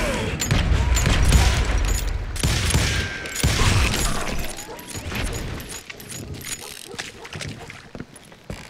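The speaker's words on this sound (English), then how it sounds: "Shooting in the street!" Gunfire erupts along a frontier town street in the Western shooter Call of Juarez: Gunslinger, a loud, dense barrage of overlapping shots and booms that is heaviest early on and then thins into scattered cracks.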